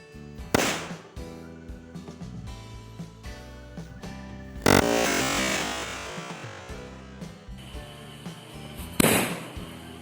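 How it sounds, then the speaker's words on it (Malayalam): Three sharp firecracker bangs from small crackers burst inside glass bottles, each a loud broadband burst with a short crackling tail, spaced a few seconds apart over steady music. "ഇത് വലിയ പവറിലുള്ള പടക്കമൊന്നും അല്ല"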